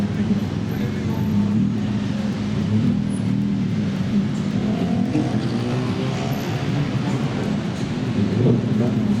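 Dense street traffic along Sukhumvit in Bangkok, a continuous rumble of engines and passing vehicles heard up close, with voices talking faintly underneath.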